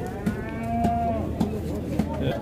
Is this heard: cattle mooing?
yes